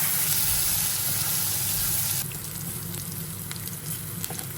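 Ginger sautés in melted margarine with a loud, close sizzle that drops to a quieter crackle halfway through, broken by faint stirring scrapes.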